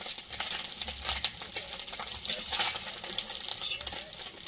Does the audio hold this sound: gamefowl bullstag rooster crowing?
no